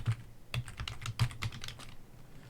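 Typing on a computer keyboard: a short burst of quick, close keystrokes, about a dozen clicks in an uneven rhythm, with no voice.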